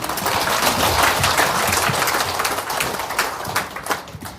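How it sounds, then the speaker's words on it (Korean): An audience at a seniors' gospel camp claps together, a steady, fairly loud wash of hands that holds for a couple of seconds and then thins into looser, separate claps. "박수 한번 쳐드리세요"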